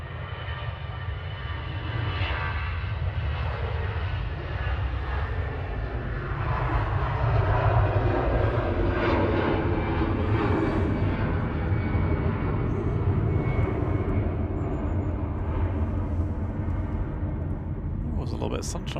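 Departing EasyJet airliner, flight 7696 to Lisbon, at Manchester Airport, a loud continuous jet engine roar with deep rumble that swells slightly midway and holds steady throughout, with people talking faintly underneath.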